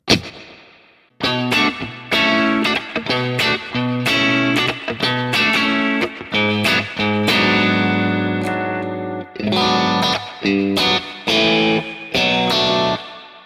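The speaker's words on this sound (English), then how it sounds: "it's the sound of a spring reverb" An electric guitar plays a string of chords through a splashy spring reverb, the notes ringing with a metallic, drippy tail between stabs.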